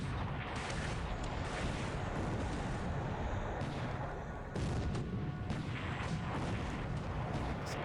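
Naval gunfire strikes ships in the War in the Pacific combat game, a dense, continuous rumble of booms and blasts with repeated heavier impacts, steady and fairly distant throughout.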